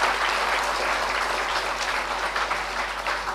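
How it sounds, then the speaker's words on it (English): An audience at the opening ceremony of an international conference on sustainability education applauds steadily and fairly loudly, a dense even wash of many hands clapping with no talk over it. "Have a huge round of applause for Shri Pradeep Burman."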